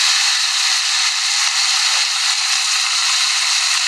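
Steady loud sizzle and hiss as potatoes go into a hot pan with fried cumin seeds and green chillies, constant and close with no talking.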